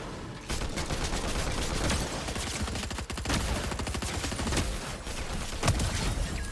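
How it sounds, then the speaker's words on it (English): Shotgun fire in the Fortnite video game, heard as a dense, loud volley of repeated blasts that keeps going almost the whole time with only brief dips. "Shotgun was shooting a little slow."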